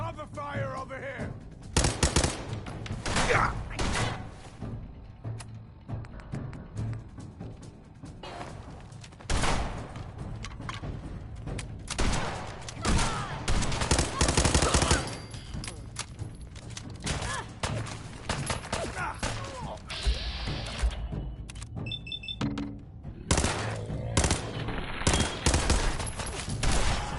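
Rapid bursts of gunfire from the video game Fallout 4, sustained volleys and single shots with thuds, loud and continuous throughout with brief lulls.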